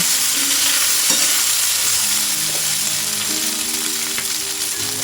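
Marinated pork with sliced chili and garlic stir-frying in a hot pan, a loud, dense, steady sizzle with a few faint stirring knocks, heard up close and without talk.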